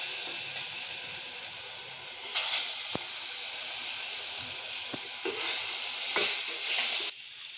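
Pieces of kalibaus (rohu-type) fish are laid into hot oil in a pan. A steady close hissing sizzle is punctuated by brief louder bursts and clicks as the pieces go in and shift, with no talking.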